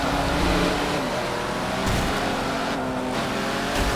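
A Mexican-design racing vehicle's engine roars loud and close, a dense continuous drone as it accelerates with slight shifts in pitch.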